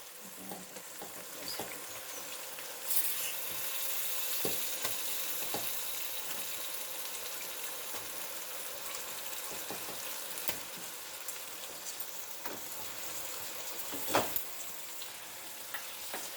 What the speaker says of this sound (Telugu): ఇప్పుడు ఫిష్ ముక్కల్ని వేసుకుందాం.